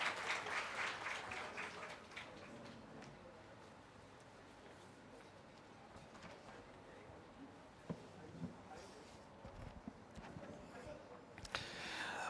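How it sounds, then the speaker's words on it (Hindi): An audience at a Rajasthan awards ceremony applauds deputy CM Premchand Bairwa, with strong clapping at first that thins to faint scattered claps and shuffling, then swells again near the end, distant and fairly quiet. "एक बार जोरदार तालियां हो जाएं राजस्थान के डिप्टी सीएम प्रेमचंद बैरवा के लिए।"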